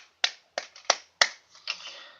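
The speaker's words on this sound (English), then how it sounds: "Give it a clap" A person clapping during a movie review, giving several sharp, separate claps spaced roughly a third of a second apart, close and crisp, each fading quickly into silence.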